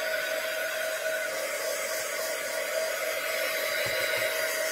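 A hair dryer blows steadily at close range over scrapbooking texture paste, a constant loud whooshing hum with no pauses and only faint background knocks.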